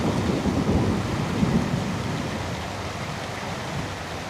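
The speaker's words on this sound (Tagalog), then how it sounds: "Sobrang lakas ng ulan." Heavy tropical rain pours down steadily with a dense, loud hiss while deep rolling thunder rumbles beneath it, continuous throughout with no voices.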